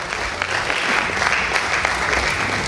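A conference audience at a leadership and innovation event claps to welcome an ambassador to the stage, giving dense, steady applause throughout, full and close, with no voice over it.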